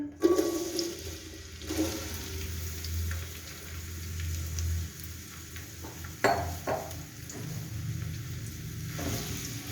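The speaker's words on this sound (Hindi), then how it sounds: "ऑयल हमारा गर्म हो चुका है। अब इसमें प्याज ऐड करेंगे।" Onions dropped into hot oil in a large pot over an open fire for nihari give a rushing, watery sizzle with a low rumble underneath, rising in bursts and carrying on steadily at close range.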